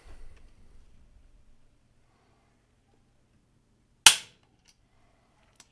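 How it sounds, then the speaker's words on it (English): A single sharp, close dry-fire click as the trigger of a Tikka T3x Tac A1 left-hand rifle in 6.5 Creedmoor breaks during a gauge pull, standing alone in near silence. "We're going to do 5 trigger pulls."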